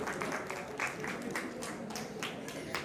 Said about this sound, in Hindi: वाकई में बहुत बहुत तालियां होनी चाहिए